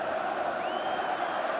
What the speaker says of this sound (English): rising to applaud Chris Waddle and Peter Beardsley